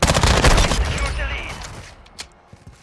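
Rapid automatic gunfire from an MPX submachine gun in Call of Duty Modern Warfare II, a dense loud burst that fills the first half and then tapers into scattered fainter shots and echoes.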